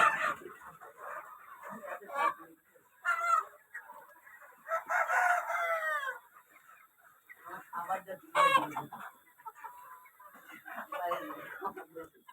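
Farm chickens cluck and call in repeated bursts, with louder crowing-like calls among them, fairly close against a quiet background, while people talk intermittently.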